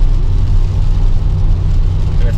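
Cars passing on the motorway, heard from inside a moving car as a loud, steady low road and engine roar that drones continuously with little change.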